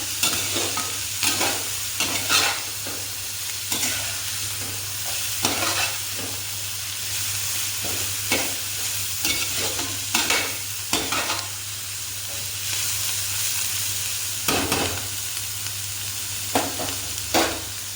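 Vegetables for noodles sautéing in a pan, a steady sizzle broken by repeated spatula scrapes and stirring strokes at irregular intervals, close and fairly loud throughout with a low constant hum beneath.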